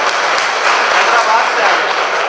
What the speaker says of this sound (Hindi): इनके लिए भी तालियां बजा दीजिए।